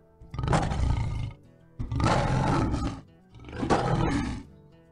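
Wyvern attack from World of Warcraft: three loud, roaring snarls in close succession, each about a second long and separated by short gaps, with no talking.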